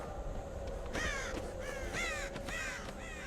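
Crows caw repeatedly in the horror video game Dead by Daylight, a series of rasping calls at a steady pace over a low ambient drone, moderately distant and fairly quiet.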